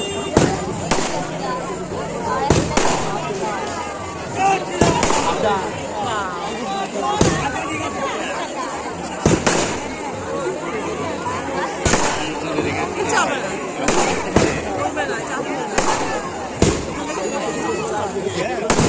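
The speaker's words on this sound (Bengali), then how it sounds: "এসে দেখি বাজি ফাটানো স্টার্ট হয়ে গেছে।" Firecrackers and fireworks burst at a fair in repeated sharp bangs every second or two, over a lively crowd and people talking nearby.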